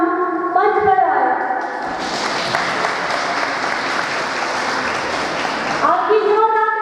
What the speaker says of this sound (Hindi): आपकी जोरदार तालियों के बीच में स्वागत है मधु राणा जी का।